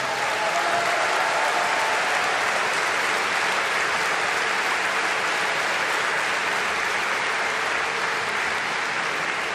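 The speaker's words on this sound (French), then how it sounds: "Vous pouvez aussi les applaudir." Sustained applause from a sizable crowd at a political event, dense and steady clapping filling the whole stretch without pause.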